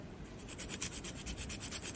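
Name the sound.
sandpaper sanding a notch in a wooden dowel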